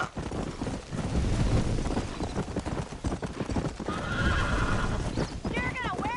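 Rapid clip-clop of galloping hooves close by in Red Dead Redemption, with a horse whinnying near the end and voices calling over the hoofbeats.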